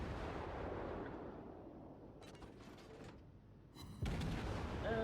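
Naval guns firing in the World of Warships game as a Gremyashchy destroyer, a dense booming rumble with crackling bursts, then a sharper loud salvo near the end.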